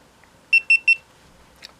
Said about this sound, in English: Now, 3 beeps, you know it's on.